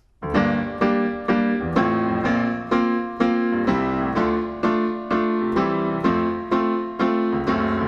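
A solo piano plays the verse of a pop song, a repeating, evenly paced pattern of ringing chords that fade between strikes, steady and fairly loud.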